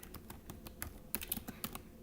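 Quick, crisp keystrokes on a Chromebook keyboard, a rapid irregular run of close clicks with a few heavier taps.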